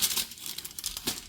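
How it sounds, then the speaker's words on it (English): A sheet of aluminium foil crinkles and rustles in short, close, crisp bursts as it is folded over a comb. "You're going to fold that foil over your"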